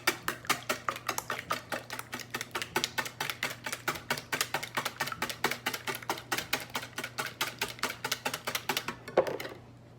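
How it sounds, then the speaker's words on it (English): Eggs, three of them, beaten with a whisk in a bowl for a biscuit pudding: a rapid, even run of light clicking strokes close to the microphone, continuing for about nine seconds before stopping. "we're going to take 3 eggs, and I whisk them"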